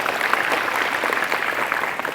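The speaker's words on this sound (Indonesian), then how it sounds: "tepuk tangan lu buat Mas Yoga." A group of athletes and coaches claps in applause at a motivational session in Bojonegoro, producing a steady, fairly loud, continuous patter that lasts throughout.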